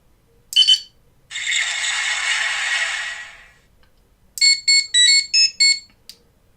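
A toy gives a short electronic chirp, then a long hissing whoosh, then a quick run of rapid beeping tones, loud and close.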